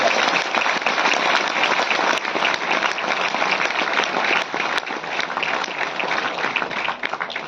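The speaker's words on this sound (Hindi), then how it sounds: "मंत्री साहब की सबसे जोरदार ताली बजाएं।" Loud, sustained applause from a crowd at a railway goods-shed workers' union programme in Delhi, honoring the minister; dense continuous clapping fills the room at close range for several seconds.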